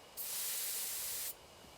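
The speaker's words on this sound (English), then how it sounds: "Take careful aim and spray the drug." In a video game, a sprayer loaded with a drug lets out one steady burst of hissing spray lasting about a second, even and fairly quiet, with no talking.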